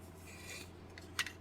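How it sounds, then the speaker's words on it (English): Soft, close-up scraping and rubbing of fine abrasive sanding green Bondo body filler on the cab of a Monogram Ford F100 model car, with a steady low hum underneath and a couple of sharper scratches near the end. "Got a little more sanding to do here on the green Bondo."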